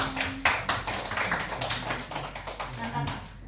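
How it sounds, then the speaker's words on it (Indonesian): An audience applauds at a school dissemination session on positive classroom culture, steady clapping filling the whole stretch with no voices over it. "tepuk tangan untuk semuanya"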